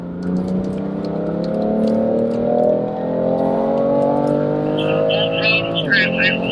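A car's engine holding a steady drone as it rises gradually in pitch during a BMW M club track day lap, close from inside the cabin, with a brief dip and faint high chirps near the end.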